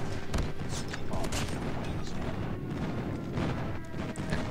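Airstrike explosions in COD Mobile keep up a dense, continuous barrage of booms and crackling blasts for several seconds, steady and fairly loud, with no talk over them.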